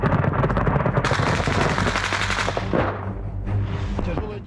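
Battlefield gunfire in Ukraine: dense, close bursts of machine-gun and small-arms fire crackle continuously, rapid overlapping shots loud and harsh throughout, easing slightly near the end.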